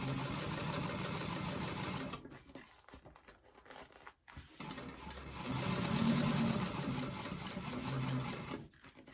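A sewing machine back stitches a seam on a doctor bag, running in two close, busy bursts of rapid mechanical stitching separated by a brief quieter pause, with no talking.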